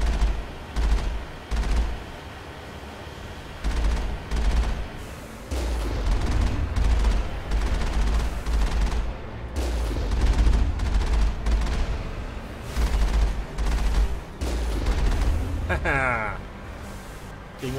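Gunfire in the video game Mass Effect, with repeated bursts of shots and booms in a steady rhythm, close and loud, under someone talking.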